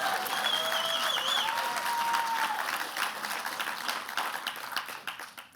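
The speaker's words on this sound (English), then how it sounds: "Please applaud." Steady, full applause from a festival audience at a TV awards-season event, loud and sustained with a few whistles or cheers on top, gradually thinning toward the end.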